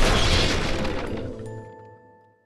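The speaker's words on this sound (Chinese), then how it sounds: "接着，蛋黄在面糊当中爆炸" Sound effect of an egg yolk exploding in cake batter in a mixing bowl: a loud sudden boom that decays over about two seconds into fading ringing tones.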